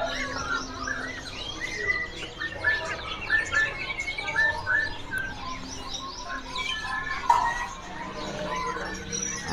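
Jala kebo birds chirp in a bird shop, a busy stream of quick, bright tweets and short calls repeating over several seconds at moderate distance, with soft background voices mixed in.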